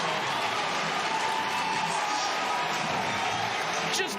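A crowd at a men's lacrosse game roars and cheers after a goal, a dense sustained wash of noise with scattered applause throughout.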